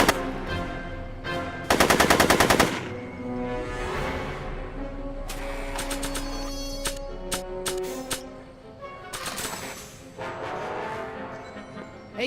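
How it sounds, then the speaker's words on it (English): Loud bursts of gunfire from the Back to the Future video game, with a dense machine-gun-like volley near the start and scattered sharp shots over a musical score, no talking. "I'm finding it difficult to concentrate with all the bullets flying around my head, Mr. Callahan."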